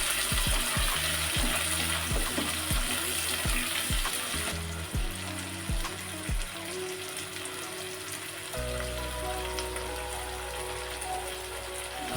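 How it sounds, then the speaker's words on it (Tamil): Small shallots and garlic frying in sesame oil for a traditional South Indian vathal kuzhambu, with a steady close crackling sizzle, a run of rhythmic utensil clinks early on and tonal background sound later. "சின்ன வெங்காயம் பூண்டு எல்லாமே நல்லா நல்லெண்ணெயிலே வதங்கணும்."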